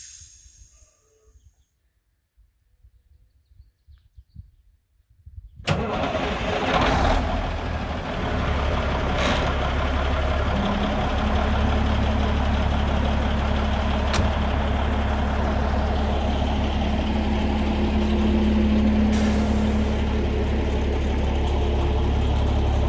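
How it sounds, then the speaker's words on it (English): A 1996 International Eagle semi truck starts up after near silence, then settles into a steady, loud, low diesel idle that runs on without talk. "he has to start the truck back up so he can run the wet kit"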